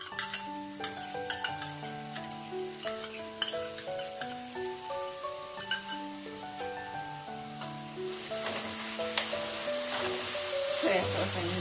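Vegetables for hakka noodles stir-frying in a pan with a prepared paste added, a continuous sizzle and occasional utensil clinks heard beneath prominent background music.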